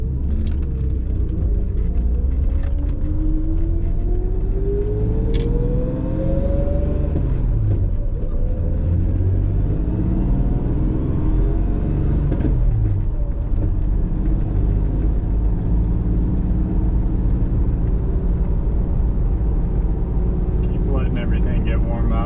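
A 1994 Jaguar XJS supercharged 4.0L straight-six engine hums at a steady low rumble while cruising in third gear at 2000 RPM, with road noise underneath and a brief rising whine partway through.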